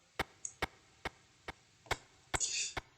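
Simple synth voice from a Trumor module run through a Chrono Blob delay: sharp, evenly spaced clicky pulses, about seven in three seconds, with a brief high chirp and a short noisy swell near the end, quiet overall.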